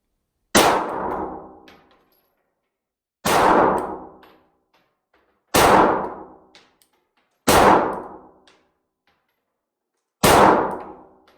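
Glock 48 pistol fired at a target on a range, five loud sharp shots spaced a couple of seconds apart, each with a short ringing decay and no voices.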